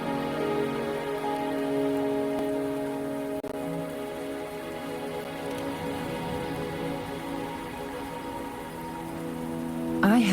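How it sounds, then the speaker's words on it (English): Steady rain falling in the video game Wuthering Waves, a dense continuous patter on surfaces with a soft musical drone underneath, holding evenly throughout and swelling slightly at the very end. "Are you trapped here by the rain?"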